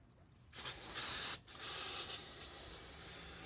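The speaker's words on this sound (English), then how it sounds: "So what we're going to do is stick these up here and tack them with the brake cleaner" Aerosol brake cleaner hisses in two close, loud bursts onto vehicle wheel bearings, a short spray, a brief pause, then a long continuous jet.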